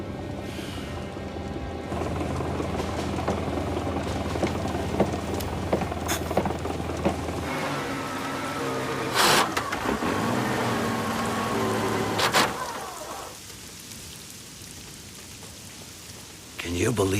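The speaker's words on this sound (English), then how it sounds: "Can you believe this rain?" Heavy rain pours steadily on a coastal Italian setting, a dense broadband hiss with scattered louder drops and brief splashes, briefly easing toward the end; faint voices occasionally sound beneath it.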